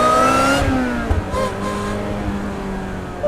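Supercharged Ariel Atom 3R engine revving hard then dropping off, pitch sliding down as the throttle lifts, close and loud, followed by a lower steady drone with faint supercharger whine.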